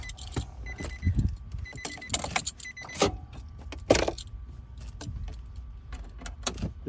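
Screws come out of the dash mount area of a 2008-2015 Nissan Armada, with close metallic clicks, tool taps and small rattles coming irregularly over a quiet background.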